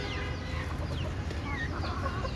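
Free-ranging native chickens clucking and calling in a chick brooding setup, several birds close by in a steady busy chorus with no talking.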